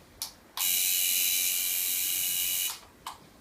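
A tattoo machine switched on with a foot pedal: two short blips, then a steady high buzz for about two seconds that cuts off, followed by another brief blip, close and fairly loud.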